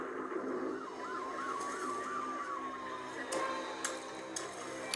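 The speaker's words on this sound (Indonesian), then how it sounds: "Lagi hujan, terus kayak ada pemadam kebakaran gitu." A fire engine siren wails in the rain, its rising and falling tone sweeping repeatedly before settling into a long steady note, heard at moderate distance over the hiss of rainfall with a few sharp knocks.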